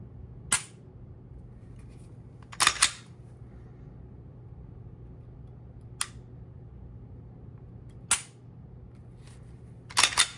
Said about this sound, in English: I think for a Glock style trigger, the trigger break is actually very crisp.